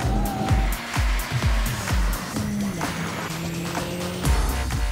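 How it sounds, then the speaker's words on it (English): A Peugeot RCZ engine revs hard on a race track, rising and dropping repeatedly as it is pushed to the rev limiter, loud and close with sharp pitch sweeps between bursts. "More throttle on the exit, unwind the lock, hit the rev limiter."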